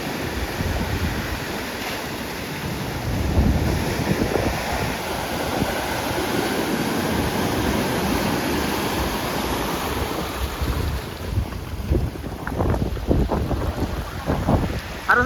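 Water surging in with waves, a loud continuous rushing wash with wind, roughly steady throughout and close, with some low rumbling underneath.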